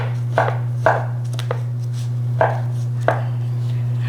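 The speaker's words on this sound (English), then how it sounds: "Let me just finish chopping these mushrooms." Mushrooms being chopped with a knife on a board while cooking Korean sweet potato noodles (japchae): a handful of crisp, separate knife strikes at an uneven pace, close by, over a steady low kitchen hum.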